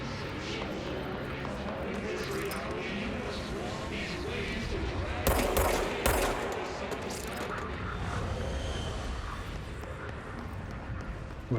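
Shots ring out in Control as guns fire at propaganda generators, a few sharp loud bangs near the middle over a busy, rumbling game background, while someone speaks.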